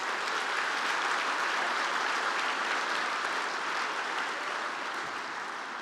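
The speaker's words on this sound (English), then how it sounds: "Let's give them another round of applause" Steady, dense applause from a seated audience at an induction dinner and ceremony for honorees, sustained evenly for several seconds with no talking over it.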